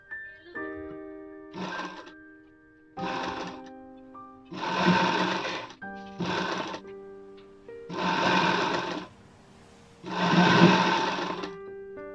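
A sewing machine stitches a princess cut blouse in six separate runs of rapid, even whirring, each lasting about a second, with a faint electric hum and quiet pauses between them.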